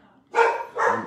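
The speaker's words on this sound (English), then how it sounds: "We do have quite the guard dogs" Two sharp dog barks in quick succession, fairly close and loud, with a quiet moment before the first.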